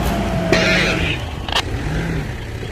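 Off-road vehicle engine droning steadily on a dirt trail in the Serra da Canastra, a low continuous hum with slight pitch rises as it accelerates, close and constant with a couple of brief knocks from the body.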